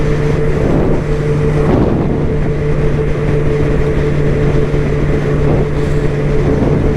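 Steady engine drone of a 2023 Honda CB1000R, a 147-horsepower motorcycle, heard while riding, with constant wind buffeting on the microphone and a low humming tone that holds throughout.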